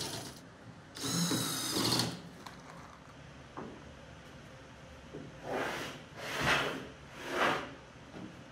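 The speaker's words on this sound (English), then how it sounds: "Here's where I'm attaching the base using those pocket screws." A power drill drives pocket screws into a wooden storage cart in a workshop, with one burst of whirring, then three shorter bursts a few seconds later, separated by quiet handling clatter. No one speaks.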